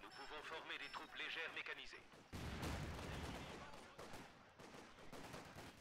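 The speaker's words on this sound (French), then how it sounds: "C'est un bombardement, ça va." Artillery bombardment in Company of Heroes 2, a broad rumbling barrage of blasts that swells suddenly and continues as rolling impacts, with voices talking over it beforehand.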